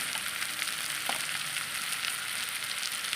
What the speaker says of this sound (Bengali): এবার এটা আবার নেড়ে নেব